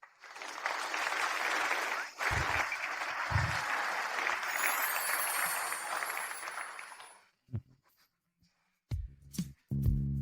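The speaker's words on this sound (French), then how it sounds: "On peut s'applaudir." A small group claps together in a sustained round of applause for several seconds, fairly close and steady, then it stops abruptly and a few scattered knocks and handling noises follow in an otherwise quiet room.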